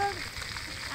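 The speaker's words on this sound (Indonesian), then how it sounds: "Eta digoreng apa?" Food frying in a pan, a brief steady crackling sizzle heard close up, with faint voices in the background.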